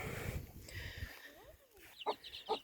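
Chickens clucking in a garden beside potato and strawberry beds, a few short close clucks near the end after a stretch of rustling outdoor background.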